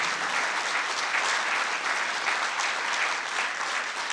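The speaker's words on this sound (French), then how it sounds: "là, il faut applaudir très fort pour toutes et tous les remercier" A festival audience at the closing of FIG 2022 applauds loudly to thank the staff, giving dense, continuous clapping with no talk.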